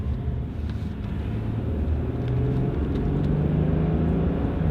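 A Lexus car cruising down a road at higher speed, with a steady low engine and road rumble plus tire noise that holds level throughout, close and continuous with no talk.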